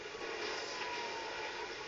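A helicopter in a Transformers video game drones as a steady, broadband rotor-and-engine roar, continuous and fairly loud throughout with no talk over it.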